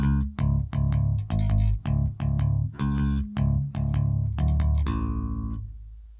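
An electric bass plays an octave-and-fifth pattern, about a dozen clean plucked notes in an even rhythm that end on one long ringing note that slowly fades.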